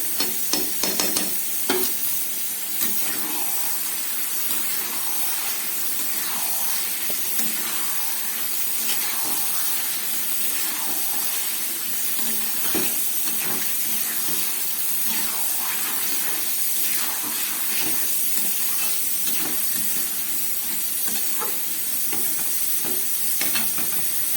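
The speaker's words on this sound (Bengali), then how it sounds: "খুব ভালো করে আমি এবার কষাচ্ছি।" Chicken with sour yogurt and a little sugar being sautéed in a pan, a steady close sizzle and hiss with repeated scraping stirs running throughout, no voices.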